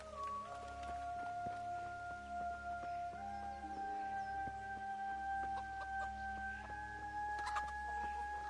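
Hens cluck in the video game Kingdom Come: Deliverance, with soft, repeated clucking and calls over steady farmyard ambience and sustained background music, at moderate distance.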